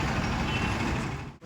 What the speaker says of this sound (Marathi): तर आता आलो आपण माळीवाड्याचं बस स्टँड